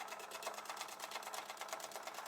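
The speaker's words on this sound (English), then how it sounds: "But you don't need the machine to be sewing super fast." A sewing machine runs at a moderate pace stitching tear-away material, its needle giving a quick, even rattling pulse throughout, close and steady with no talking.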